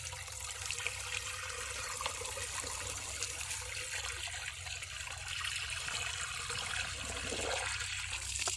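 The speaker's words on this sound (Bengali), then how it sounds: "এখন এই যে মেশিনে জল দিচ্ছে" Water running steadily into a shallow pump machine in an open field, a continuous watery rush over a low engine hum with no pauses.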